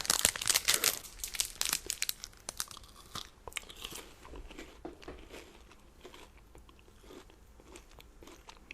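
A Nestle chocolate bar is unwrapped and eaten, with loud close crinkling of a plastic candy wrapper at first, then quieter crunchy bites and chewing, all up close and with no talking.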